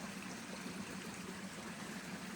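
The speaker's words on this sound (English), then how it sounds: "You hear the water running in the little waterfall over here and over here." Water trickling and splashing steadily over a small desert waterfall, a continuous close, gentle rush with no voices.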